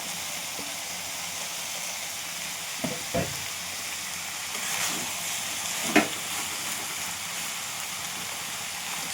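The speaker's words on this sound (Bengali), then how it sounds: "ঝিঙেগুলো দিয়ে দিচ্ছি। এবার ভালো করে নিয়ে নেবো। এবার ভেজে রাখা আলুগুলো দিয়ে দিচ্ছিলাম।" Ridge gourd and previously fried potatoes sizzle in a pan with a constant hiss, while a few stirring knocks and scrapes cut through the steady frying noise.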